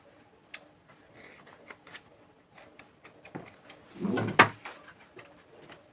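Scissors snip through fabric for a turban cap with scattered crisp cuts and rustles, then a louder burst of handling near the end, close and without talk.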